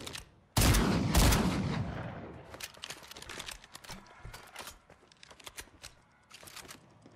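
Submachine gun fire in Fortnite: a loud rapid burst up front, then scattered sharp single shots and short volleys continuing at lower level through the rest.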